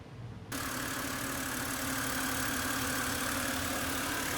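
A BMW N52 engine idles after a coolant flange replacement, its steady, loud mechanical hum starting abruptly half a second in and holding even and close for several seconds with no talking.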